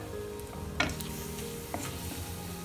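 Turmeric and chilli powder sizzle in hot oil for a dhaba-style black masoor dal tadka, a steady close frying hiss with a couple of sharp clinks from stirring.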